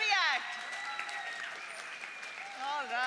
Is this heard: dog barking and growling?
no